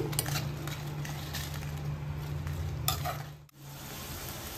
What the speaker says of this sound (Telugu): జీడిపప్పులు ఇవి బాగా కొంచెం వేగాలి.